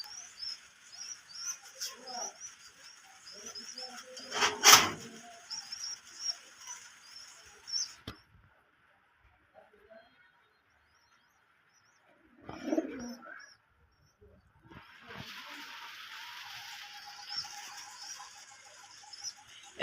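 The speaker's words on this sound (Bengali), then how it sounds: "এখানে একজোড়া কবুতর দেখতে পাচ্ছেন আমার বাড়ির" A pair of domestic pigeons kept in a home loft coo softly, with chirps and other bird calls scattered around them. There is a loud burst near the start, then a quiet gap, and the calls return toward the end.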